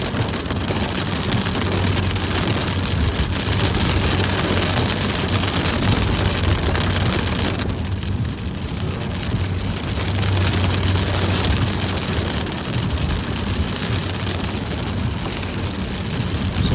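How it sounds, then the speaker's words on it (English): Steady rain pours down outdoors during a police patrol, a loud continuous hiss filling the scene with a brief dip partway through, no voices heard. "I'm sorry about the rain here."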